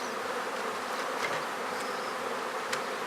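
Honeybees swarm around an open hive while a beekeeper reorganizes the boxes, their dense, steady buzz filling the air near and loud with no pauses throughout.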